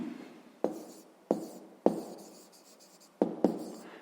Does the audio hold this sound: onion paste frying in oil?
no